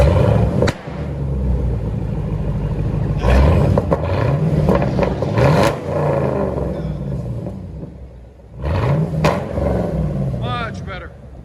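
A 2012 Chevy Camaro SS convertible with a 6.2L V8 and straight-pipe dual exhaust after a resonator and muffler delete roars through repeated loud revs, deep rumbling between bursts, with a voice speaking briefly near the end.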